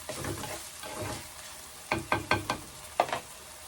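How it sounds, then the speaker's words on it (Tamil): Onions frying in a pan, a soft steady sizzle followed by a run of sharp, close scraping and stirring strokes, about four quick ones and then another, with no talk. "ஆனியன் வந்து நல்லா ஃப்ரை ஆகணும்"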